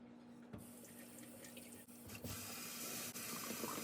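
Reverse osmosis water runs steadily from a tap or pours into a container while houseplants kept in water are being tended, a continuous hiss that gets louder partway through.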